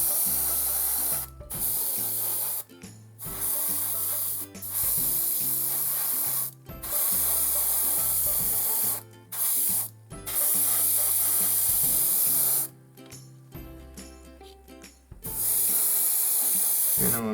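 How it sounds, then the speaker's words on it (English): Airbrush spraying paint onto sci-fi tabletop terrain, working into the recesses: a loud, close, continuous hiss broken into bursts by short pauses, with faint handling noise. "Obviously, if you are using an airbrush, get into the recess first."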